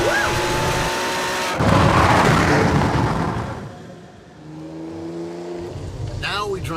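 A Ferrari 599 drops a couple of gears and accelerates on the road into New Orleans, its engine roaring loudly, dipping briefly, then climbing again with rising tones as the revs build.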